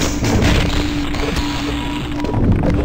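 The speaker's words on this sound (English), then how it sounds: "Yes, I did just use the satchel charge to kill these little tiny head crabs" A satchel charge detonates in the video game Half-Life, blasting headcrabs with a loud, close boom followed by crackling debris and rumbling that carries on for a couple of seconds.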